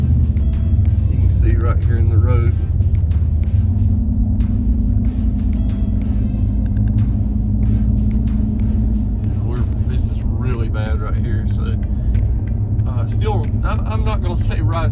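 Lifted truck with an aftermarket suspension driving a bumpy, potholed back road, a constant loud engine and road rumble with thumps and rattles from the bumps while someone talks over it throughout.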